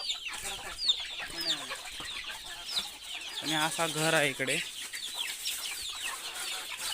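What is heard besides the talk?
chickens clucking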